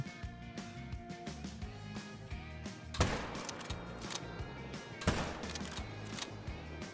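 Rifle shots at pronghorn in the hunting video game Call of the Wild, two sharp gunshot cracks a couple of seconds apart over a low, steady ambient bed, fairly quiet overall and with no talk.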